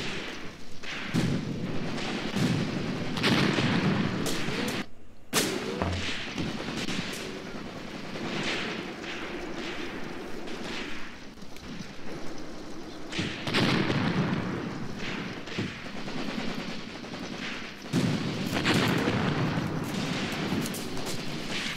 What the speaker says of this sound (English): It's good to see at least we're getting some mortar fire down